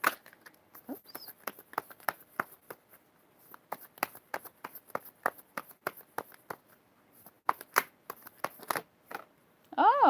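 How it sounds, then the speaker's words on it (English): Tarot cards shuffled in a long run of crisp riffling bursts and soft slaps, close and fairly loud, with a brief voice near the end. "Just shuffling to get into the vibe of it."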